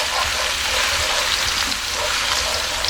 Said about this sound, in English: I'm just gonna fry it up for a few seconds so you can get the flavor and all the aroma from this garlic